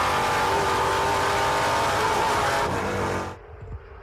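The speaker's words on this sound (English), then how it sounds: "Beautiful sound of Cameron Lawrence weaving his way through the S's." A Trans Am muscle race car roars through the esses at Circuit of the Americas, its loud, sustained engine note holding steady before dropping off sharply as the car moves away.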